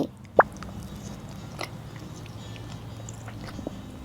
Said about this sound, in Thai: เดี๋ยวเรามาชิมกัน ชิมของเนื้อแป้งก่อนนะคะ